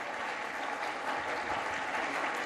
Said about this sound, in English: please give a round of applause to the entire team of the Rawalpindi Medical College who made